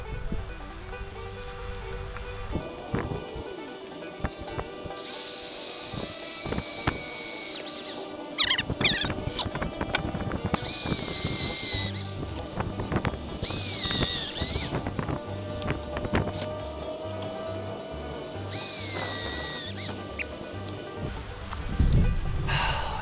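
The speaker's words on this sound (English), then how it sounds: "And now I'm gonna drill them holes" Loud bursts of a power drill boring holes in wood with a wood bit, whirring at high speed, several separate runs with short pauses between them, close to the microphone with some wind noise.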